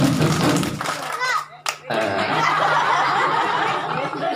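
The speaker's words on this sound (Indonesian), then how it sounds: "Sekarang dites tepuk semangatnya." Children at a Maulid Nabi celebration at a school perform a rhythmic clapping chant, lively young voices and hand claps mixing with giggles, a brief pause in the middle, then the noisy group resuming.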